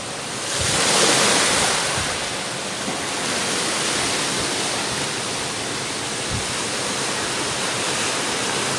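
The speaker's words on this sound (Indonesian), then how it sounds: "Nah, sekarang kalian dengar bunyi ombak." Ocean surf washes in as a broad, steady roar with a slight swell near the start, continuous and unbroken, with no voices.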